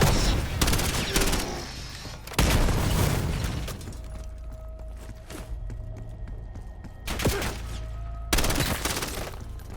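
Gunfire in the video game Call of Duty Black Ops 7: loud bursts of shots and booming blasts come in clusters at the start, the middle and the end, with quieter stretches of tonal game sound in between.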